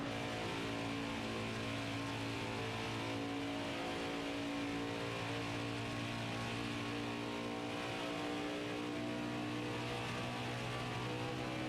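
Race car engines in the NASCAR Heat 5 video game hold a steady, continuous drone with layered engine harmonics, loud and unbroken throughout without any talk.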